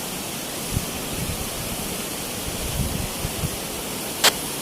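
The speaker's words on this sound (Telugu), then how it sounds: "ఇక్కడ మొత్తం మనకి వాటర్, జలపాతాలు ఇవన్నీ కనిపిస్తూ ఉంటాయి, సౌండ్ వస్తూ ఉంటుంది." Waterfalls at Pahalgam in Kashmir, heard as a steady broadband roar of rushing water, constant and moderately loud, with a brief sharp click near the end.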